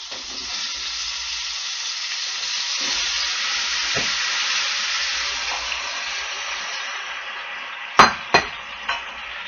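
Potatoes sizzling in hot olive oil with browned garlic, a steady bright frying hiss throughout, ending with a few sharp clinks of a utensil against the pan.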